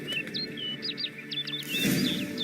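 Bird chirping in Witcher 3: Blood and Wine, a run of quick, bright, clear tweets in a rapid rhythm over faint ambient background, fairly close and distinct.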